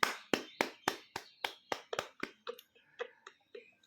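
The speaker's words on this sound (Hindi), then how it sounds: "जोरदार तालियां सर के लिए" Applause at a meeting for an award winner from Kumar Gram Tea Garden: a small group claps in a quick, even rhythm of about a dozen beats that fades toward the end, heard close and without talk.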